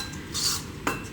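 Batter for pecan or banana bread is mixed by hand in a bowl, with a soft scraping stir followed by a single sharp clink of utensil against the bowl, close and brief.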